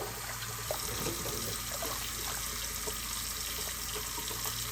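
Tap water runs steadily into a kitchen sink while canning lids and rings are washed, a continuous close splash and trickle with light clinks and knocks scattered through it, no voices.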